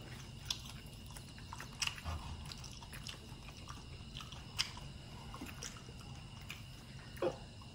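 Close, soft chewing of grilled eel coated in a thick sauce, with a few sharper bites and wet, squishy mouth sounds over a quiet room.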